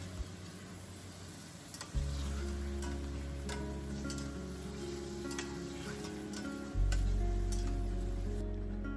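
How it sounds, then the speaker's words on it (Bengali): Chicken frying in a pan, a continuous soft sizzle with occasional faint ticks and pops under a steady low hum, fairly quiet and without voices. "চিকেনটাকে ভাজা বসিয়ে দিয়েছি, মানে ভাজতে বসিয়ে দিয়েছি।"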